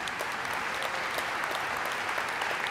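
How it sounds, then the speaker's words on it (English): An audience applauds at an AFT teachers' union address, steady dense clapping filling the whole stretch at an even level with no voices on top. "You can all clap for yourselves."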